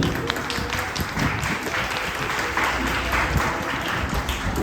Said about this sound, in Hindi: एक बार जोरदार तालियां जो पिछली प्रस्तुति के लिए